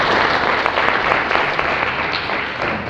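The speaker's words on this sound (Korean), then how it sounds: "원거리를 한가름에 달려와 주신 김용년 교수님을 큰 박수로 모시겠습니다" An audience at an education forum in a hotel in Gyeongju claps to welcome a professor, a dense, loud round of applause lasting a few seconds that eases slightly toward the end.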